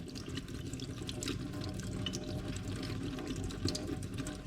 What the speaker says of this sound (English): we're going to put it under the cold water